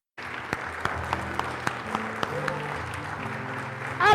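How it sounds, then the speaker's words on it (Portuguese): A church congregation at a Revival Church service in London breaks into applause, a sustained wash of clapping with a few sharp louder claps, while voices call out over it and a speaker starts talking at the end. "Você pode aplaudir ao Senhor por isso?"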